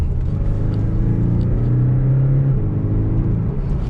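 A Porsche 718 Boxster in manual mode drops down from fourth gear, its engine a loud steady rumble from inside the car, with the pitch rising briefly as revs climb, then settling.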